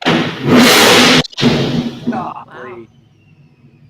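A cold-started car engine with a ProCharger supercharger, exhaust and headers roars loudly up close, drops out briefly, revs again and settles to a quiet idle, while a voice speaks a short exclamation over it.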